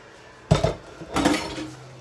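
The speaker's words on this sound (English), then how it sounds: "get your little dishes out the way." Dishes clatter and scrape in a home kitchen in two short bursts, close and fairly loud, with quiet gaps between.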